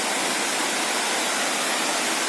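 The Lover's Leap waterfall in Nuwara Eliya, Sri Lanka, heard as a loud, steady broadband roar of falling water, continuous and unbroken with no voices.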